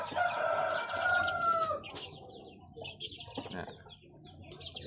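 Chickens on a hillside farm, with a rooster crowing loudly and drawn out near the start, then scattered clucks, chirps and faint calls amid a bit of background voice.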